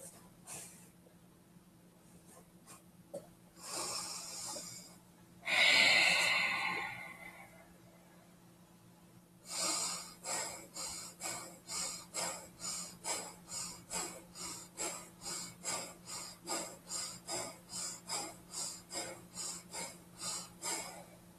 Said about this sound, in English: Breath in and out. 3 breaths is 1.